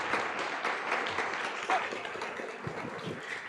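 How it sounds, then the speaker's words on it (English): At the Swiss Game Awards 2023 ceremony, the audience applauds a game award winner, a sustained wash of many hands clapping that fills the hall, with faint crowd noise underneath. "Big round of applause, please."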